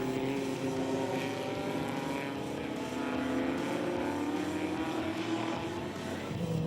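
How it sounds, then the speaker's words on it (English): Race cars lapping a wooded circuit with a tight left-hand turn and esses, including a Martini Porsche, a continuous steady engine roar from several cars at moderate distance without breaks. "Campos makes his move and pulls alongside Koenig and makes the pass as they cross the line and complete another lap here at Dezzi Raceway"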